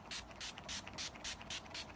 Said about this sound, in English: I'm just going to set that with my setting spray